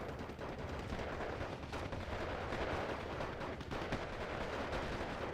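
Battle gunfire from Steel Division 2, a World War II strategy game, as a dense, continuous crackle of rifle and automatic weapon shots mixed with distant rumbling, held at moderate loudness with no voices.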